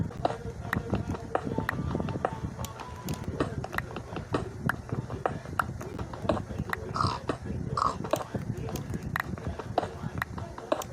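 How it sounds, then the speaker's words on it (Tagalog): Pig grunts and oinks from Minecraft sound faintly amid rapid game footsteps, thumps and clicks, with people talking over the gameplay. "Abot yung tunog ng baboy sa labas?"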